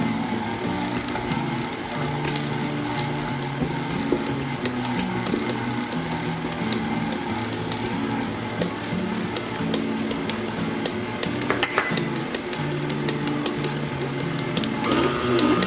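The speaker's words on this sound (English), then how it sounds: "Turn the mixer on low speed." Electric mixer running on low speed through banana muffin batter with broken-up bananas, a steady close mechanical whir with a faint rhythmic churning and a few clinks near the end.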